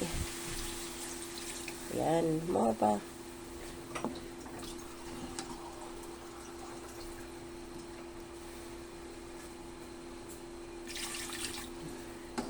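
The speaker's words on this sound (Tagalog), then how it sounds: "Lalagay tayo ng tubig." Water is poured into a cooking pot for chicken tinola with patola and pechay, a faint steady splashing pour at low volume, with a brief spoken remark early on and some kitchen clatter.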